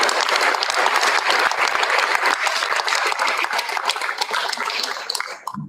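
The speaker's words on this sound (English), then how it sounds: "One last round of applause for him." Audience applause at a school board meeting, dense sustained clapping from a full room, loud and even throughout before tapering off abruptly at the end.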